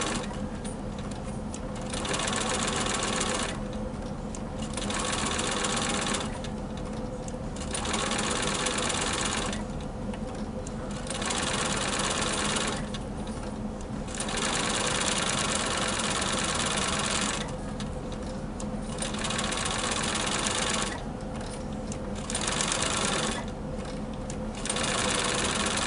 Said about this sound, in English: I'm going to stop with my needle down, lift up my presser foot, and reposition the fabrics as I need to sew this curve